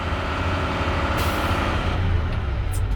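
A truck's air brake system builds pressure to 120 PSI until the governor cuts out, heard as a loud, steady hiss with a low engine rumble beneath and a brief sharp burst of air near the end.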